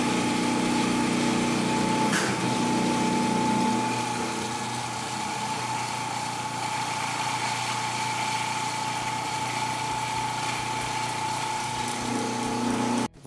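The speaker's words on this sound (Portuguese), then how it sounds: "Mas antes de fechar aqui a frente da nossa bomba, eu quero ligar para vocês poderem ver como que ela vai funcionar." A homemade electric water pump runs with a steady high-pitched motor whine and a constant tonal hum, loud and close. Its tone shifts slightly after a few seconds, then it keeps going until a click at the end.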